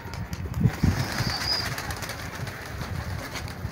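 A soft cooing from a nearby pigeon with a brief flutter of wings, over faint background noise.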